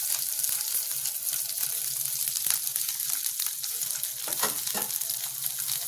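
Green chillies and onions fry in a teaspoon of oil for veg manchurian, a dense, continuous close-up sizzle with scattered pops and light stirring scrapes throughout.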